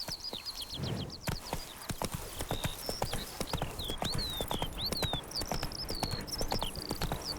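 Geralt's horse Roach trotting in The Witcher 3, steady rhythmic hoofbeats close by with bright birdsong whistles overhead and a brief low voice early on.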